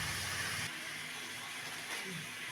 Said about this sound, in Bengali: এবার আমি এই ডালটা ওতে ঢেলে দেবো।